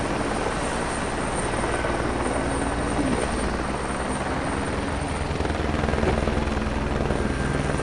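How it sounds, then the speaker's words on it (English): A helicopter's steady rotor thump and engine roar in the WRC rally video game, loud and continuous throughout, drowning out other sound. "Let's go out the helicopter cam with Sam."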